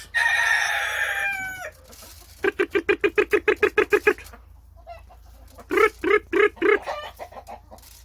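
A rooster crows loudly up close, followed by rhythmic runs of chicken clucking in two bursts, with quiet pauses between.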